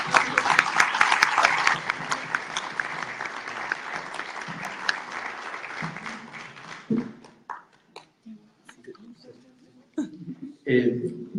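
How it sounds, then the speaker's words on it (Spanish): An audience at a Spanish-language talk on Isabel de la Trinidad and the Bible claps warmly, the applause thinning out after several seconds into scattered claps and quiet speech. "Pues damos un fuerte aplauso a nuestro Padre"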